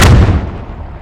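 A heavy RPG round explodes in the video game Squad with a single loud, close boom that hits hard and then rolls off into a fading rumble over about a second.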